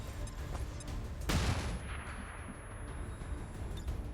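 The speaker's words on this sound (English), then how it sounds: "Thinking probably just flashbang" A flashbang grenade in XCOM 2 Long War 2, one loud sharp burst with a ringing hiss that fades over a few seconds amid busy background game sound.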